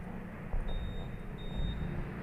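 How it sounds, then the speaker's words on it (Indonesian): Two thin electronic beeps from a Honda Vario 150 scooter as the ignition switches on, faint, high and evenly spaced over a low background rumble. "itu terdengar suara tit atau bip lah, nadanya keluar suara"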